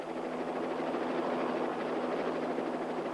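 A steady, droning helicopter hum with a rapid rotor flutter holds at a moderate distance throughout, with no voices.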